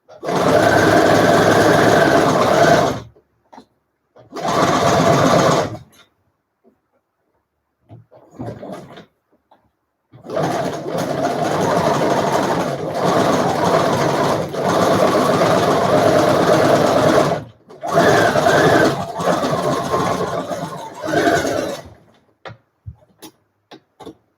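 Sewing machine stitching a hem on a fabric face mask, running in several sustained bursts with short pauses between them, close and loud.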